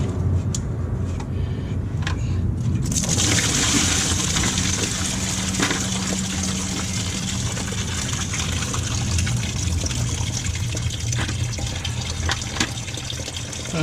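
Coolant water draining out of the hoses of a 2006 Subaru Forester during a thermostat replacement, starting with a few drips and then turning into a steady, loud gushing splash that continues without a break.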